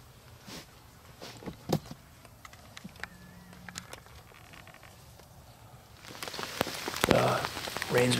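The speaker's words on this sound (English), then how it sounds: "Rain's become a little too much" Rain patters on a surface at a hunting camp cabin with scattered drops, faint at first and then building into a heavier, louder downpour toward the end.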